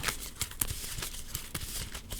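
Cards for the board game Citizens of the Spark are shuffled close by, a quick series of soft riffling and snapping flicks over a couple of seconds, no talking.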